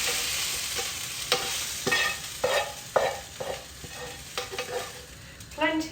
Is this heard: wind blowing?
no